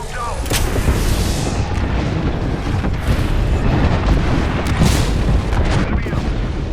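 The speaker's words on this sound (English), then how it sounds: "Signaling an airstrike." Heavy airstrike explosions in a shooter game: a continuous rumbling barrage of booms with sharp blasts around the midpoint and end, loud and sustained, with radio-style voice chatter underneath.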